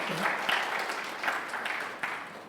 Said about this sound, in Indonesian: Katakan amin dan sekali lagi beri tepuk tangan